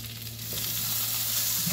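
Cheesy potatoes with cowboy rub and smoked cheese sizzle steadily in a skillet, a soft continuous frying hiss with faint scraping as they are pushed around, close and fairly quiet.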